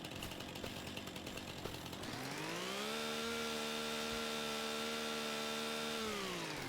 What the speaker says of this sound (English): we do a little stump grinding and get rid of at least the ones that you can't get rid of with the stump grinder